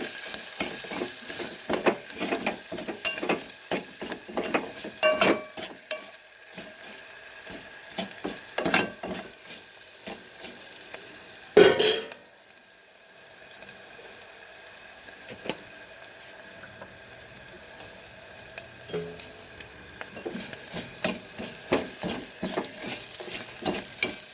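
Tempering spices for tomato rasam sizzle and crackle in hot oil with a spoon scraping and stirring at intervals, close and steady, then the sizzle settles lower after a sharp clatter.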